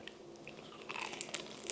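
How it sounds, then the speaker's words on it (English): Crisp crunching bites into a large loaded potato skin with cream, several close, sharp crackles followed by soft chewing. "Oh, nice crunch."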